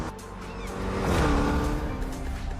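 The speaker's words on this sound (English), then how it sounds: "Our cars sound better than ever, with greater detail and remastered audio" Japanese performance car engine from a racing video game with remastered acoustic modeling, a steady loud engine drone that swells toward the middle, like a car accelerating past, then holds; no talking.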